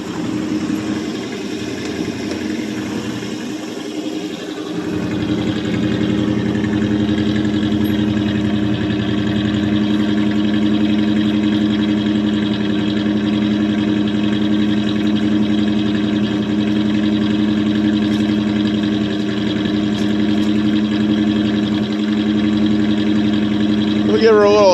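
A 1984 Chevrolet Suburban idles steadily after a cold start following three years of sitting unused, a loud continuous engine rumble that settles in after the first few seconds and holds throughout.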